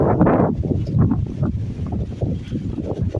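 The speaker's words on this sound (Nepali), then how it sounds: "हावा चलिरहेछ।" Steady wind over open farm fields buffets the microphone, a low rumbling roar that swells and eases throughout with no voices.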